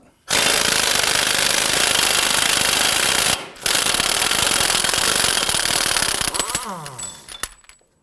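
A 32mm socket on an impact wrench rattles loose the front axle nut of a 2008-2011 Ford Focus, a loud continuous hammering burst with one brief pause, then fading into a few clinks near the end.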